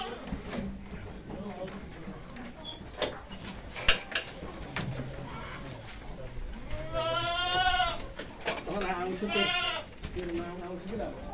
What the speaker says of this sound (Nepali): यहाँ चाहिँ 68 वटा बाख्रा रहेका छन्